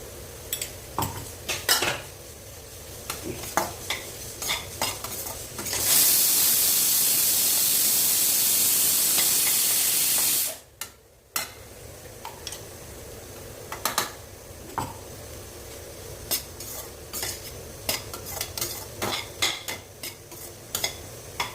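Banana stem and grated coconut being sautéed in a pan, with repeated metallic scrapes and clinks of a utensil stirring, a steady hissing burst partway through, then more stirring taps.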